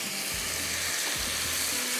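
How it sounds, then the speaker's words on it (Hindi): Water hits a hot pan of spices with Kashmiri red chilli and hisses in a steady, dense sizzle, bubbling and crackling continuously at close range. "इसके बाद इसके अंदर जाएगा पानी"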